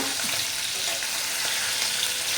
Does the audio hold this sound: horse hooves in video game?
no